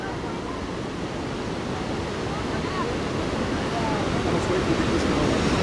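River water flowing in Yellowstone National Park, a steady broad rushing roar that swells slightly toward the end, with faint talk underneath.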